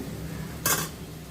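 A single brief metallic clink of a spoon against a pan while chayote sautés in coconut oil, heard once over a quiet background hum.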